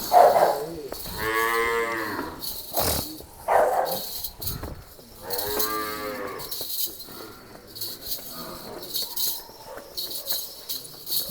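Nili-Ravi buffalo at a village livestock sale mooing twice in long, deep, loud calls, close by, with quieter ambient farm noise between them.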